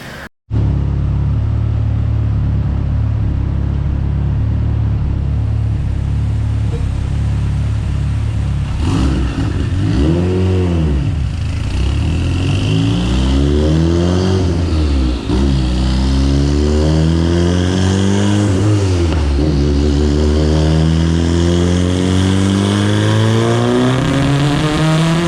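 Mitsubishi Evo 9 with a 2.4L built engine, flex-fuel tune, revving roughly and unevenly as if misfiring; loud, close engine note with repeated rising and falling rev sweeps after a steady idle.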